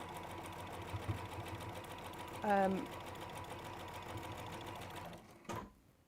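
Close, steady whir of a sewing machine joining fabric pieces into pairs, running continuously for several seconds before stopping, with a person speaking briefly over the motor.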